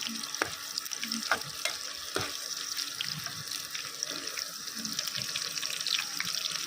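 Dried red chillies fry gently in oil over a very low flame, a steady soft sizzle broken by occasional small clinks and stirring sounds, close and continuous.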